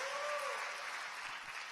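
A church congregation claps together during a sermon, a dense, steady wash of applause that stays fairly even through the short stretch, with a faint tonal note early on.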